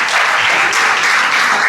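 Renewed applause from a crowd at an annual religious festival in Karnal, a thick, continuous burst of many hands clapping at full strength with no voices over it.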